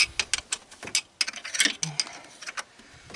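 Metallic clicking and ratcheting from loosening the four fan pulley bolts on a Jeep Comanche, a quick irregular series of sharp ticks close by with no talking.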